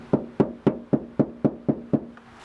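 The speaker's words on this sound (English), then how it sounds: "I'll come back around and tap on the outside of the door for all of you." Eight evenly spaced knocks on the outside door panel of a 1982 Dodge D50 pickup truck, sharp, close and loud, each with a short ringing decay.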